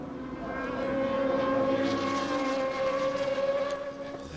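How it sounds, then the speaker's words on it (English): A GP2 race car engine howls down Hanger Straight at Silverstone in the 2006 British round, a steady high-revving tone with harmonics held loud and close for several seconds, heard on its own. "There's that unique engine note."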